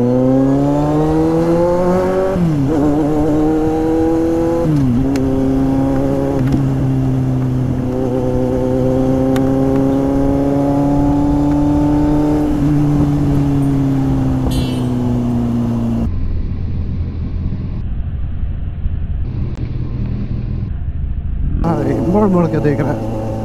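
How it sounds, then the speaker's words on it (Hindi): Busy road traffic in Bareilly with cars and buses, a steady close engine drone with a rising and falling whine as a vehicle accelerates, under continuous rumbling. "गाइस आप लोग देख रहे हैं बरेली का ट्रैफिक बहुत खराब है"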